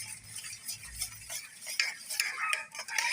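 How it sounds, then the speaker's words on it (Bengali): A spoon or utensil stirs a homemade soap mixture in a bowl, producing quick irregular ticking and scraping clinks, close and fairly quiet, with a low thump early on. "তো এটাও আমি সুন্দরভাবে মিক্স করে নিচ্ছি।"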